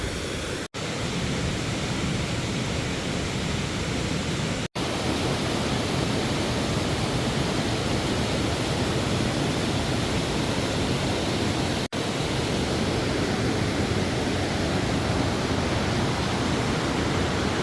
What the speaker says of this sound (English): There's where we're headed. There's Hemlock Falls.